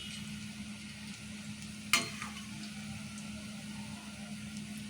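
Quiet, steady sizzling of thin, crispy karappusa strands frying in oil, with a low background hum, broken once by a sharp clatter near the middle.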